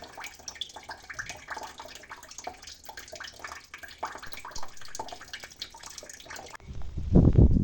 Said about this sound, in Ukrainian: Ще ось тут фільтри два в мене стояли. Я теж з них зливаю воду.